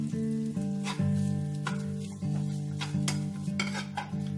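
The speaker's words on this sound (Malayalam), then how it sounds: "ഇനി ഞാൻ ഒരു മുറി തേങ്ങ തിരുമ്പി വെച്ചിരുന്നു അത് ഒന്ന് മൂപ്പിച്ചെടുക്കുകയാണ്" Grated coconut roasts in a pan for tapioca biryani, with repeated spatula scrapes and clatters over a soft sizzle, while a steady low humming tone runs underneath.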